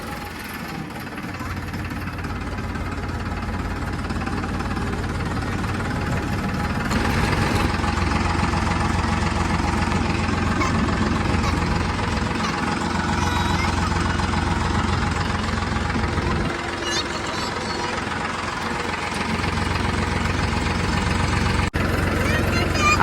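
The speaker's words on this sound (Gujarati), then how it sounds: "પહેલી જ વાર આ ટ્રેક્ટર હાચ્યું પણ જો એકદમ વ્યવસ્થિત ચાલે" Tractor engine running steadily in a farm field during ploughing, a continuous close low rumble and knocking drone that lasts throughout, with a voice talking over it.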